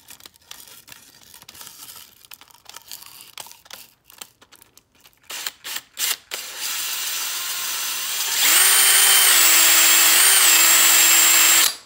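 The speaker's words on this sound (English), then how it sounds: "Stick it in the drill." A power drill spins up to work on a Fightlite SCR fitted with a custom Remington 1100 stock. Scattered handling knocks and rustles come first, then the motor whines loudly and steadily close by before cutting off.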